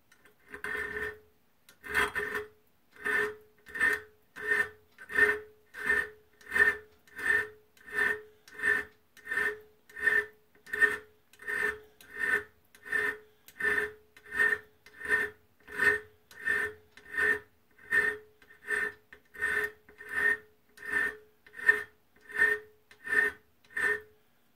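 A hand file rasps against a steel twist drill bit in steady back-and-forth strokes, about twenty-five even passes, close and fairly loud with no talking.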